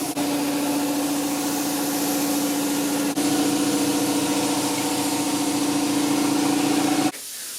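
A repeatedly repaired, leaking air hose hisses loudly and continuously at close range, with a steady tonal whistle inside the hiss and two brief interruptions before it drops off.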